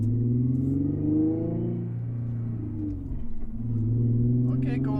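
Car driving along after an oil gauge install on an engine whose gaskets need replacing, with a low engine drone rising and falling through gear changes, heard from inside the cabin with a few faint background sounds.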